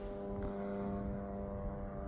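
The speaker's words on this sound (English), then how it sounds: "All I hear is an airplane." Propeller airplane droning steadily overhead outdoors, a continuous low hum with strong harmonic tones holding level throughout, no voices.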